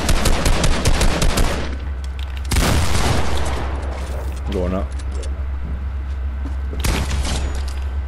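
Rapid automatic gunfire bursts in Call of Duty Zombies, loud and dense over the first couple of seconds, then another burst midway and a final one near the end, with voices talking over the shooting.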